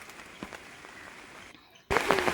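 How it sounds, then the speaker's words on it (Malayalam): Rain falls in a steady, soft patter for about two seconds before a sudden, louder voice-like sound cuts in at the end. "മഴ നന്നായി പെയ്യാൻ തുടങ്ങി"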